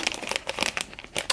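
Crinkly acetate packaging envelope being cut apart, giving a quick run of close, bright crackling and crunching bursts with no talk.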